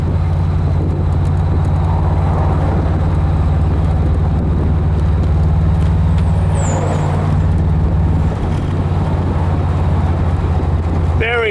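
A 1979 VW Beetle Cabriolet cruises on a California freeway with tall gearing, its engine producing a steady low drone under road and wind rush, with a voice talking over the cabin noise.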